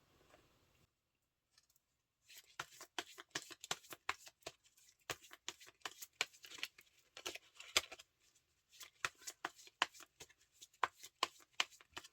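Tarot cards shuffled by hand, a dense run of crisp riffling snaps and flicks with short pauses between bursts, close and fairly quiet with no talking.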